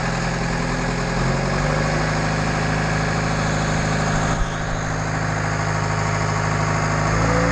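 A Schwing BPA500 concrete pump's engine runs steadily through a pressure test, a loud continuous drone with a low rumble and a faint tonal hum, alone with no talk.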